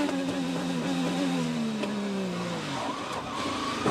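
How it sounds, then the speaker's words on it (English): IndyCar at the 2015 Detroit race with locked front wheels, the engine note dropping steadily as it slides, then a rougher scrape as it runs into the tire barrier, heard over crowd and track noise. "already locked up the front wheels. He takes his foot off the brake just a little bit, tries to make the turn, carrying too much speed, ends up into the Corvette tire barrier there"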